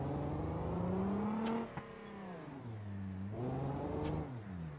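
A BeamNG video game car with an automatic transmission revs up through rising gear tones, drops as it shifts, then climbs again in a smooth, synthetic whine.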